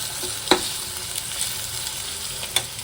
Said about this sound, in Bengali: এখন আমি পেঁয়াজটা একটু ভেজে নেবো ভালো করে